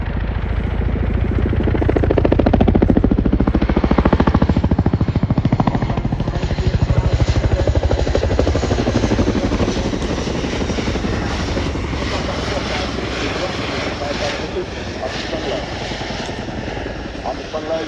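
Chinook twin-rotor helicopter, 99 feet long, flying a display at the RIAT 2025 airshow. A loud, heavy rotor thump pulses throughout under a steady engine roar, with a voice talking over it.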